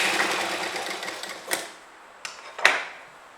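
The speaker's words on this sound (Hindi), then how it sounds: "यहाँ पर हम थोड़ी दूरी तक सीधी सिलाई लगा लेंगे" A sewing machine stitches a short straight seam on a kurti, a close, steady whirring chatter lasting about a second and a half. A few sharp clicks and taps of fabric handling follow.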